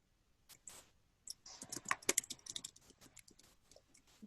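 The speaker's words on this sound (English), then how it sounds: "then I'm going to type in my company name." Typing a company name on a computer keyboard while working in Canva, a quick close run of light key clicks with a few scattered taps before it, fairly quiet overall.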